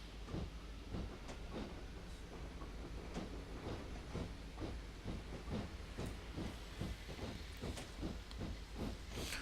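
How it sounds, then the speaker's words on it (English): A Black 5 steam locomotive hisses steadily, a broad continuous wash of escaping steam with faint rhythmic pulses running through it, loud and near, with no voices. "I hear steam."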